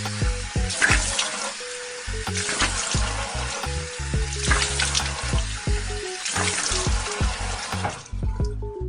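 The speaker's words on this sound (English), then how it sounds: "let's wash my face so I can wake up faster" Tap water runs steadily into a sink during face washing, a close, continuous splashing hiss broken by short knocks and handling sounds, with no voices.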